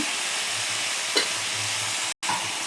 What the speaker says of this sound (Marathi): आपल्याला परतून घ्यायचे.